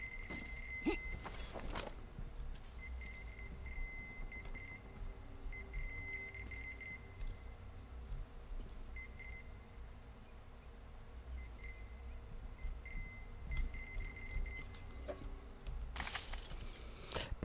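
Intermittent electronic beeping inside the video game Metro Exodus, short repeated tones recurring at a steady mid-pitch over a quiet game ambience, moderately faint with occasional clatter and item-pickup noises.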